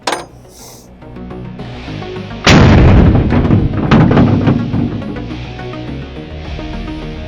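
A single loud blast from a .50 caliber rifle at about 2.5 seconds, followed by a ringing, echoing decay outdoors, with a quieter click-like sound near the start and no talking.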